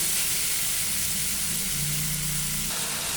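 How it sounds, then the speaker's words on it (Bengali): Chickpea ghugni fries in a pan with garlic, giving a steady, close sizzling hiss that continues unbroken throughout. "আর একটু আমি করবো, ভাজবো, তাহলে হয়ে যাবে।"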